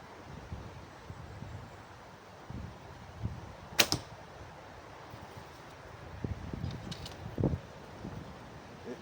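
An arrow leaves a 96-pound Yeon Mu Gung Korean bow drawn to 32 inches: one sharp snap and a thump, then a second distant impact, all over steady outdoor wind noise.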